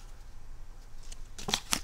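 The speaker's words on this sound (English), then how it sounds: "let's just start pulling all the cards" Photo cards slide out of a K-pop album, quiet papery handling building into a couple of sharper card flicks at the end, close and alone.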